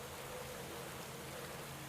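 Steady rain in the cycling game Pro Cycling Manager 2016, during a Tour de France stage, an even hiss of falling water that runs unbroken and moderately close throughout.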